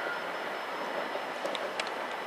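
A train at a Clapham Junction station platform gives off a low, fairly quiet rumble, with a faint steady high whine and a few brief metallic clicks and squeaks over it.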